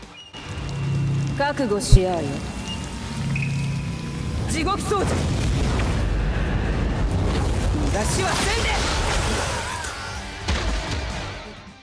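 Soul bomb special-attack animation in Bleach Brave Souls: swooping chirps and whooshing sweeps, sharp impacts and a long rushing, pouring roar of magical energy, loud and layered throughout.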